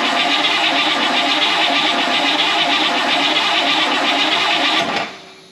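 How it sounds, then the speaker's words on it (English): A fire-damaged Buick Electra 225, freshly fitted with new oil, spark plugs and ignition, fires up and runs with a loud, steady, rough drone for about five seconds before abruptly cutting out. "I think it's time we see if this thing will fire up."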